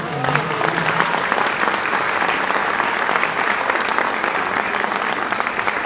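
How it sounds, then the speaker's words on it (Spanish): Audience applause at a free book giveaway event, a dense, sustained burst of clapping from a crowd that continues evenly and loudly from start to finish, with no speech over it. "Entonces pido un doble aplauso para el trabajo de Andrés."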